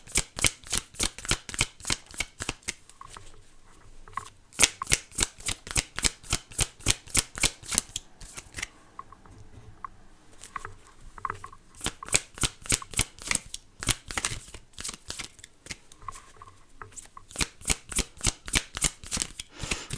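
A deck of tarot cards is riffled and shuffled repeatedly, giving close, crisp bursts of rapid card flutter in quick rhythmic runs with short pauses between shuffles.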